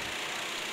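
Racing kart engines at a kart race, a steady high-pitched buzzing whine heard at a distance and fairly faint, with no speech over it.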